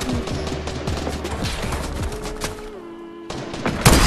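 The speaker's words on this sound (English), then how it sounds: "Everybody's sniping from everywhere, bro." Gunfire from a Fortnite match crackles in a fast flurry of sharp shots, fairly loud, over game ambience with a sustained tone and a brief quiet patch before a final bang.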